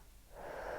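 A slow out-breath during a labour breathing exercise, a soft airy exhale that swells and holds steady through the second half, close and quiet with no talking.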